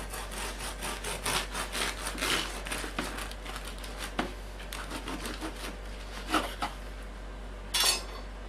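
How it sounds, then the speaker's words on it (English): A knife saws through a dense gluten-free loaf made with bread flour, giving close, rhythmic rasping strokes with crumbly crackle. A few sharper scrapes and rustles follow near the end, and no one talks. "So let's slice it open and take a look."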